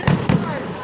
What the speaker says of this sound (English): Those shoddy fireworks were loud.